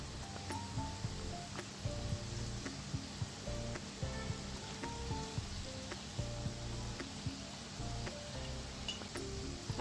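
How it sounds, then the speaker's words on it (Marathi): Shankarpali, a flour-based snack, fries in hot oil over a medium flame, giving a steady soft sizzle and bubbling with light clinks and stirring taps scattered throughout. "आपली शंकरपाळी एकसारखी तळण्यासाठी आपल्याला त्याला असं सारखं मध्ये मध्ये असं थोडं थोडं हलवत राहायचं"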